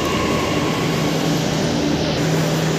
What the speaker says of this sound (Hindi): ये आई मेट्रो, अब खुलेगी धीरे से